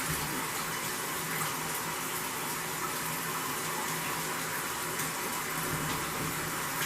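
Shower water runs steadily and close during a blue hair dye rinse, a continuous broadband hiss and patter with no breaks.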